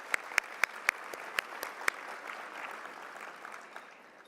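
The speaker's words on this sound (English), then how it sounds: "Let's give them a round of applause." Applause for a sponsor at an awards induction ceremony, opening with a few sharp, distinct claps over a soft crowd wash that thins and fades, fairly faint overall.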